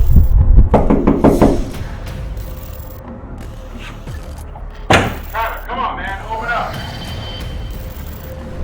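A quick run of loud knocks on a door, followed by thuds and raised, urgent voices shouting nearby.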